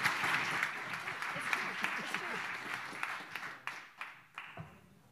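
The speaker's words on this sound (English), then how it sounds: "So let's have big round of applause for Andrew" An audience at a talk celebrating ten years of GIG bursts into sustained applause. The clapping is dense and steady at first, then thins into scattered, fading claps.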